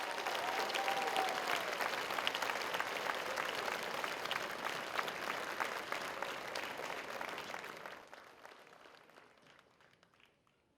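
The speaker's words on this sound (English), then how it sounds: "may we please have a round of applause for all of our new inductees" A large banquet audience applauds new inductees at a 2022 school district sports hall of fame ceremony. Sustained clapping holds strong for several seconds, then thins and fades out.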